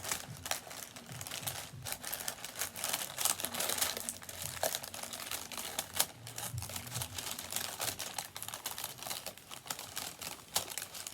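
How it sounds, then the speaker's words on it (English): Tissue paper being unwrapped from a Glossybox beauty subscription box, close crinkling and rustling in irregular bursts with small crisp crackles throughout, no talking. "I'm just going to try not to rip the tissue paper"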